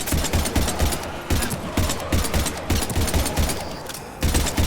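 Heavy gunfire in a Mass Effect 3 firefight, with dense rapid bursts of automatic fire and shots that pound almost without pause, loud and close throughout.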